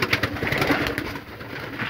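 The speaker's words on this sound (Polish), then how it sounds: "Idziemy karmić tu od Paulinki gołąbki" Pigeons in a loft, with adult birds nesting on eggs beside young birds, give soft repeated cooing and rustling close by, with no talking.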